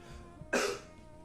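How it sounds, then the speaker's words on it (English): A single short, sharp cough from a person, close and fairly quiet, over a low steady background hum. "I just do not have the energy to mute myself every time I cough"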